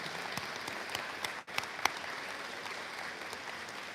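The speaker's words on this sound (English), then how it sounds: "So if we could give a round of applause to all that are working in healthcare" A school awards-night audience applauds healthcare workers with a dense, steady wash of clapping from a large crowd, heard at a slight distance and holding level, with one brief dip midway.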